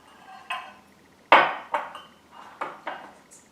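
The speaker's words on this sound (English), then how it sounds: "just ladle some of this beautiful, thick, hearty, spicy cinnamon drink" A thick, spicy cinnamon turmeric drink being ladled from a pot into a mug, heard as a handful of close, bright metallic clinks and knocks spaced unevenly over a few seconds, with no voices.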